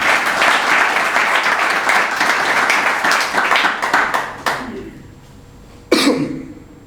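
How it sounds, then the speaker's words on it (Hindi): A church congregation bursts into loud sustained applause, dense overlapping clapping for about four seconds that thins into scattered claps, with a few isolated claps near the end. "आइए खुदावंद के लिए जोरदार ताली।"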